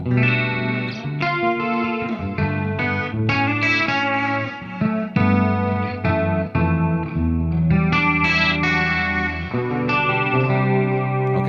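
An electric guitar played through a Fractal MF Fryette preset on a clean channel with delay and pitch shifting, chords and notes ringing densely with echo trails, loud and continuous, with no talking.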